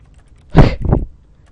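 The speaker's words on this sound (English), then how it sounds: "Hear that typing? Yeah, that's me, I'm typing." Keyboard typing in the video game The Stanley Parable comes as two quick bursts of key clatter, close and crisp, over a quiet background.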